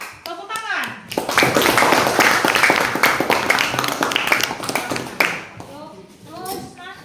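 A group claps for several seconds in a burst of applause in a classroom, with children's voices chattering just before and after.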